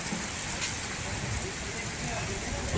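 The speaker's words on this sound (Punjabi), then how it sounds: "ਭਾਰੀ ਮੀਂਹ ਪੈ ਰਿਹਾ" A continuous wash of heavy rainfall in a village in Gurdaspur, Punjab, steady and fairly soft, keeps up without pause.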